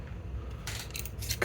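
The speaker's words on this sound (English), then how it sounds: "so I'm just going to cut a thin strip of this" Scissors snip through a thin strip of card during scale-model crafting for a 1:480 overgrown house, a few quiet crisp cuts and light rustles, close and alone.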